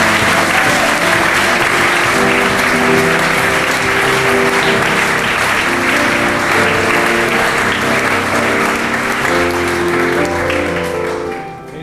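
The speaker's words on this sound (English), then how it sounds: "if we give him a big enough round of applause, he might come and give us some imperial words." Sustained applause from an audience at a farewell production event, loud and steady throughout with a tonal musical bed underneath, fading slightly at the end.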